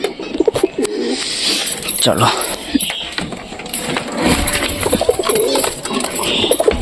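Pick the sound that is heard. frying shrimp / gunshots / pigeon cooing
pigeon cooing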